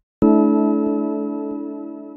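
A single sustained synth chord is struck with an added high root note, built in FL Studio. It rings loud and clear, then slowly fades, with no voices.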